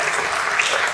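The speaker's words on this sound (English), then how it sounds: "Y'all can applaud." Audience applause at a congressional candidate forum, a steady wash of clapping from a crowd filling the whole short moment with no voices over it.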